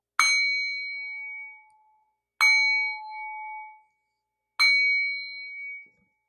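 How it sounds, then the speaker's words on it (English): A bell struck three times at even intervals in a root chakra healing ritual, each a bright metallic ding ringing out and fading over about a second and a half, clear and close with silence between strikes. "You know what? I didn't do my bell."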